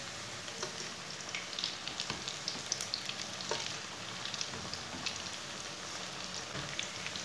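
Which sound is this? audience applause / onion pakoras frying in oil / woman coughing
onion pakoras frying in oil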